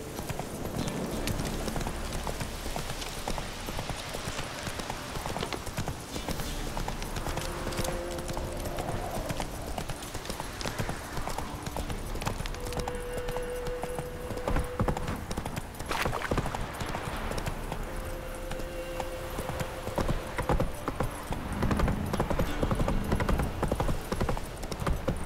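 A horse gallops with steady, continuous hoofbeats in The Witcher 3, the clip-clop running loud and unbroken throughout over ambient game sounds, with a brief faint whinny.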